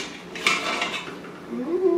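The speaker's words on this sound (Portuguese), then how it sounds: "Agora vamos ver como é que tá a nossa carne. Vamos tirar aqui a tampa." A metal lid is lifted off a pot of stewed meat, giving a short clink of metal against metal followed by a soft scrape, close and clear with no talking.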